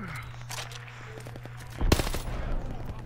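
Gunfire in the video game Call of Duty Vanguard: a steady low background hum with scattered distant pops, then a loud sudden burst of shots near the middle followed by continued crackling fire.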